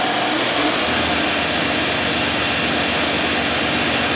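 A rebuilt 1998 Fadal VMC-8030HT CNC machining center with its spindle spinning at 5000 RPM, giving a steady, loud, even whine and roar that holds constant throughout with no talking.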